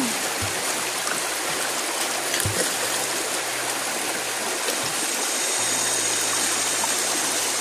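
A river stream flows with a steady, broad rushing wash of water. It sounds close and constant, and a few dull low thumps occur partway through.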